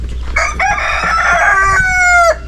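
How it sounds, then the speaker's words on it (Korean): A rooster crows once, loud and close, in a village built from collected trash, a long strained call that rises and then trails off, with a low rumble underneath. "게다가 닭들은 쉴 새 없이 울어대는데요"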